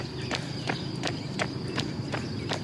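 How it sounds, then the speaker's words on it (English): A runner's footsteps strike pavement in a steady, even rhythm, about seven crisp echoing slaps over a few seconds against a constant outdoor hum of distant highway traffic. "heard the echoing of noises of my footsteps."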